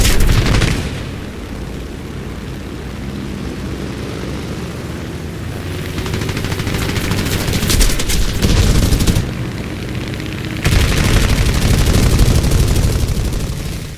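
Aircraft machine-gun fire in a flight combat video game, dense rattling bursts over a constant engine roar, with louder stretches of firing around the middle and end.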